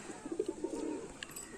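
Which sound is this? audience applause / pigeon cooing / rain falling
pigeon cooing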